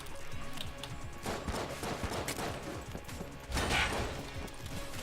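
Rapid gunfire rattles through the Enter the Gungeon video game, with bursts of shots and clattering impacts that swell near the end and are heard without talk.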